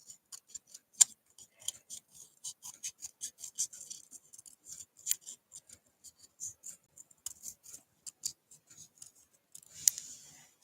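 Scissors snip through paper and foam dimensionals in a papercraft session, a quick series of crisp, close clicks and cuts with short pauses, alone with no talking.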